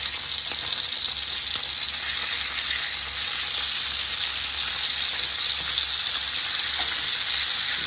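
Lamb chops sear in a hot pan with a loud, steady broadband sizzle that holds evenly throughout, with faint clicks as the chops are turned over; no one speaks.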